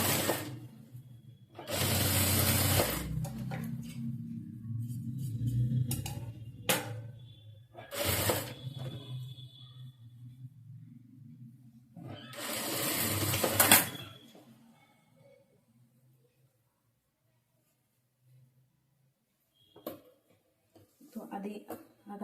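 A sewing machine stitches the lining of a saree blouse in a few loud runs of rapid needle clatter, with someone speaking between the bursts and quiet pauses near the end.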